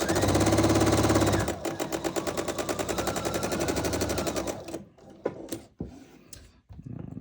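A sewing machine stitches a quarter-inch quilt seam, a loud rapid rattle running close for about five seconds before stopping, followed by softer handling clicks and taps.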